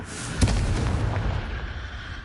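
A Confringo fire spell blast in the Hogwarts Legacy video game, a sharp explosive boom at the start trailing into a rumbling burst that fades over a couple of seconds, with no talk.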